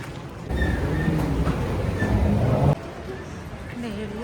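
Rumbling train noise with rattling wheels and a faint squeal, loud and close at a station platform, continuing throughout.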